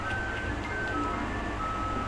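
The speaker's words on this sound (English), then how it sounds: "do I hear an ice cream truck?" An ice cream truck plays its jingle at a distance, a thin sustained melody carrying faintly over background ambience.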